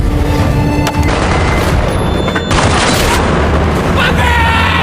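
Gunfire in a gangster film, with heavy booming shots and bursts of rapid fire that are loud and dense over a constant rumbling background.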